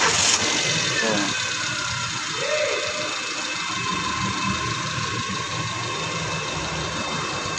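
A car engine turns over after current is fed to the starter solenoid, then settles into a steady, loud idle that runs throughout, a continuous mid-range drone with vibration.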